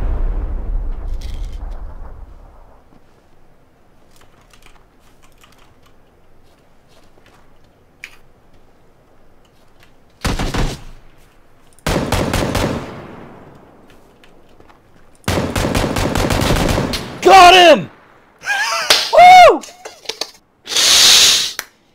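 Loud bursts of automatic gunfire from a video game shooter come in separate sharp volleys after a long quiet stretch, with brief voices mixed in near the end.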